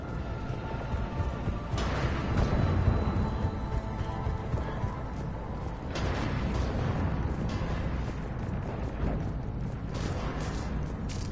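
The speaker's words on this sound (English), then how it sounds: "Those cannons have to be stopped" Heavy cannon fire in the Mass Effect video game, with repeated deep booming blasts and rumbling under a dense wash of battle noise, loud and continuous throughout.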